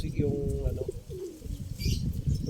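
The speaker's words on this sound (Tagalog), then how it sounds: "meron na naman tayong ligaw na ibon" A bird coos softly a few times against a steady low rumble of background noise, with faint voices nearby.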